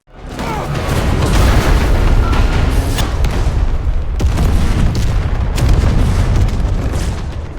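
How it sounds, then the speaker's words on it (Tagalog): A loud, sustained roaring blast with crackling bursts and booms, like a big explosion rumbling on for several seconds. "bago sumabog ang makina sa"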